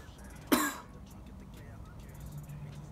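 A single sharp cough after a bong hit bursts out near the mic, followed by quiet room noise and faint shuffling.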